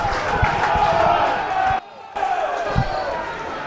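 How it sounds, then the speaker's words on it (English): A stadium crowd at a Barrow Raiders versus Widnes Vikings rugby league match gives a sustained minute's applause: a dense, loud wash of clapping and crowd noise that briefly dips before swelling again. "A minute's applause there for two legends in their own right, Ray Maguire and Paul Henderson"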